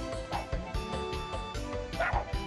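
A Dalmatian puppy in the 102 Dalmatians video game yips and barks repeatedly in quick, close bursts over game music.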